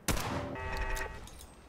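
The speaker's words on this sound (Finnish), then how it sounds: "Mä hiivin sen taakse ja ammun sitä niskaa." Gunfire from a weapon in the video game Fallout 4: one sharp, loud shot with a ringing, metallic tail that fades over about a second, with no talk.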